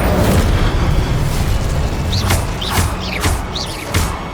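Spell blasts in Hogwarts Legacy, a heavy rumbling boom followed by several sharp whooshing casts and bursts in quick succession, loud and close.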